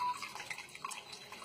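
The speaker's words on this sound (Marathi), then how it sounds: "आता हे त्याच्यामध्ये पाणी टाकतात." Water is poured into a brass vessel with a hole in its base, giving faint soft trickling and a few small drips, quiet and close.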